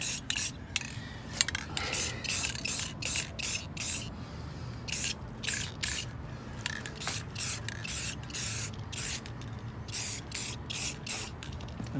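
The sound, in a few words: spraying a coating onto car exhaust hangers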